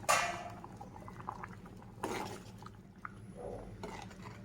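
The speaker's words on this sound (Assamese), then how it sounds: "যি ধুনীয়াকৈ উতলি আছে।" Masoor dal bubbling in a pot on the stove, a soft, steady simmer with faint popping bubbles and small liquid gurgles, quiet and close, with no talking.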